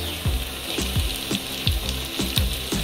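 Tomatoes sautéing in a pan after golden-browned onions, a steady close sizzle broken by regular scraping stirs about every half second, with no talking.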